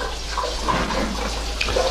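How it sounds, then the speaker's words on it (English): Water runs steadily from a kitchen tap, a continuous close hiss and splash with small bubbling variations and no voices. "Sorry about the water in the background."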